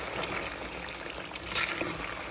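Soft, steady bubbling and gentle liquid gurgling of tallow rendering, close by and quiet, with a few brief pops and no voices.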